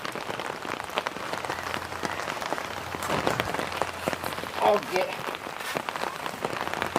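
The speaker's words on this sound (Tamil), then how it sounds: "மழை வந்துட்டு பார்த்தீங்கன்னா சரியான மழையாக இருக்குது" Heavy rain pours down around a house, a dense, steady patter of drops striking surfaces close by, with a brief spoken word partway through.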